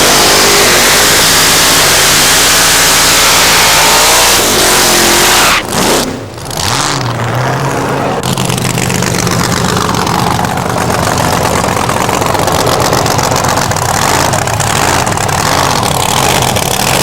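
Vega funny car at a drag race, its engine roaring loud and close, revving hard with a sharp drop and surge midway before settling back into a sustained, throaty bellow.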